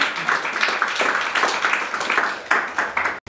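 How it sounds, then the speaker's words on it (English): An audience claps at a talk event in South Africa, a dense burst of applause at moderate volume that swells in waves for about three seconds and cuts off sharply near the end. "You can have a round of applause."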